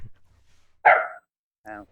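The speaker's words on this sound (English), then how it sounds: "My dog seems to want to bug me right now." A dog barks twice indoors, a strong near bark followed by a shorter, softer second one, with quiet gaps between and no talk over it.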